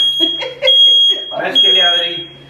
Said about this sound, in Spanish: Está buena la alarma, papi.